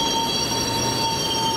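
Steady rumbling train in The Spectrum Retreat video game, running loud and continuous with a broad low roar, rattling wheel noise and faint tonal squeal lines held throughout, no voices over it.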